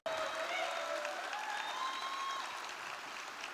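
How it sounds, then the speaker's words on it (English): Theatre audience applauding at a poetry gathering, dense sustained clapping from the start that slowly thins, with no speech over it. "give her another round of applause"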